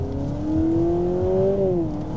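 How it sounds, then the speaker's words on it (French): A 2025 Honda Civic Hybrid accelerates at full throttle, its engine note climbing steadily in pitch, then dropping as if shifting gear before pulling again, heard from inside the car with a continuous hum. "vous avez peut-être entendu, le moteur simule des rapports."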